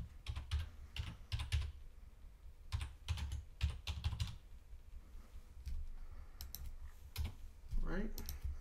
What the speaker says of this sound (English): you'll type in the domain name that you want.